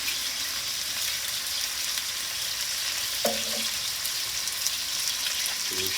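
Garlic sizzles steadily in a pan while Italian-style pork ribs are prepared, a dense continuous frying hiss with a couple of brief clinks or stirring knocks near the middle and end, no voices.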